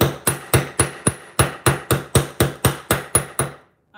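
About fourteen sharp metal hammer strikes flattening wire for jewelry in a steady, even rhythm, loud and close, each with a brief ringing decay, then silence.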